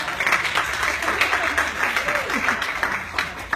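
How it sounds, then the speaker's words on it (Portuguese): Applause from a church congregation right after a healing at a Brazilian prayer service, a steady wash of clapping with voices mixed in underneath. "palmas para Jesus"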